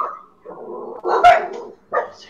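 Dogs bark in a series of loud, close, clipped woofs and yips during a hunt in TheHunter, each bark separated by short pauses.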